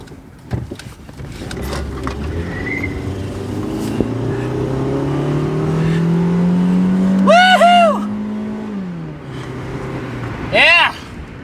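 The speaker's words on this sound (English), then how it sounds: "Don't judge the exhaust." A Honda Civic that has just had its TDC sensor replaced drives off with its engine and exhaust droning and rising as it accelerates, heard from inside the cabin while occupants talk and exclaim over it.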